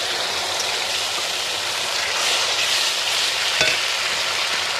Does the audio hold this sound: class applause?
no